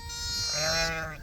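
A single sheep bleats clearly and close by, a wavering, drawn-out call lasting about a second.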